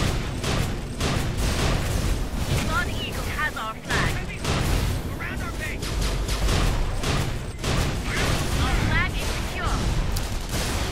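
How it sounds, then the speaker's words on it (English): Grenade explosions and weapon fire in the Tribes Ascend video game, repeated loud booms and bursts in dense succession with busy in-game action, while a person talks over it. "I wish this had a bigger explosion radius. I mean, being a grenade and all."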